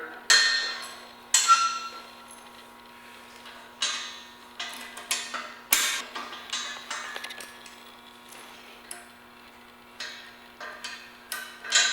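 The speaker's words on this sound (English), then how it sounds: "what we're going to do is just take these cotter pins out of here" Sharp metallic clicks and taps from cotter pins being pulled out of a K2 Storm snow plow blade frame come in irregular close bursts over a steady low hum.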